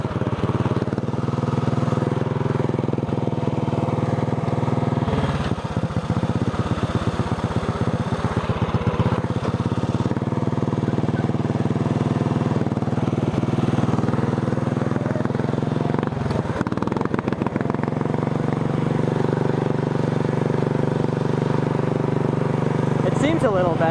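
A racing lawn tractor engine drones steadily at close range during a test ride, with a buzzy rumbling tone that rises and falls slightly, and someone talks over it at times.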